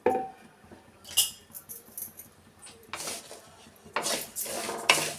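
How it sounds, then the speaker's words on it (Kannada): Coarse ground rice for khara bath being roasted and stirred in a pan, giving scattered metallic scrapes and clinks with bursts of gritty rustling, close and moderately loud. "ಈ ಅಕ್ಕಿನ ನಾವು ಈ ಥರ ರವೆ ಥರ ಮಾಡಿ ಇಟ್ಕೊಂಡಿದ್ವಲ್ಲ, ಅದನ್ನು ಈ ಟೈಮಲ್ಲಿ ಚೆನ್ನಾಗಿ ಹುರ್ಕೊಬೇಕು"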